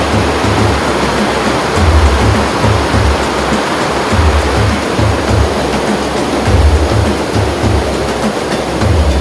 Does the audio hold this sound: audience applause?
no